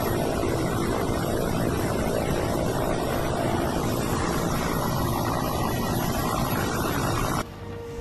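Rescue helicopter hovering over flood-ravaged mountain terrain in Himachal as a woman is winched up on a rope, a loud steady rotor and engine roar filling the air without a break before cutting off abruptly near the end.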